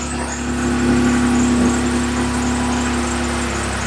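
A 2013 Ram 1500 4x4 with the 3.6 engine, fitted with an oil pressure gauge, runs at a steady idle close by, a loud continuous mechanical drone with a faint whine on top.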